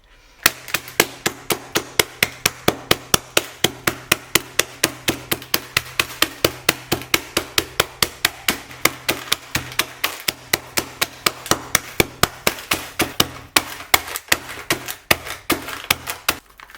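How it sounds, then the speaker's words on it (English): A rolling pin beating mini eggs inside a bag, dozens of steady, rapid thuds and cracks repeating at close range with no talking. "I'm getting my trusty rolling pin out again, and I'm just going to beat them basically while they're in the bag"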